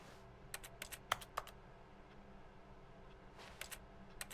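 Rapid clicking in a video game that sounds like keyboard typing, arriving in two short bursts of crisp taps separated by a quiet stretch, over a low steady background hum.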